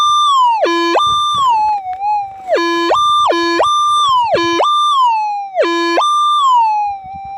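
A metal detector sweeping over gold-bearing gravel gives a loud electronic tone that repeatedly swoops from low to high and back in steady rising-and-falling cycles, with no talking.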